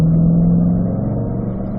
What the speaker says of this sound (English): Exhaust gets louder, and now the transmission's holding a little higher RPM